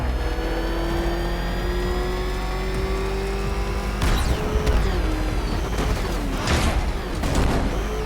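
Batmobile engine in Batman: Arkham Knight revving hard and steadily, its pitch climbing and dropping as it accelerates, loud and close throughout.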